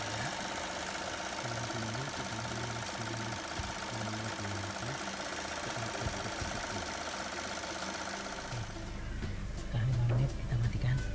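Chevrolet Spin 1.5 petrol engine idling steadily at close range, a continuous low mechanical hum with faint ticking, briefly louder near the end as it is shut off for an oil change.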